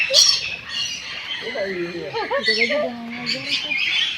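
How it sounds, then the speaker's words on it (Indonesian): Colorful birds squawk loudly and repeatedly inside a walk-through aviary at Royal Safari Garden, with harsh calls and chirps overlapping close by while people talk nearby. "Itu burungnya warna-warni banyak."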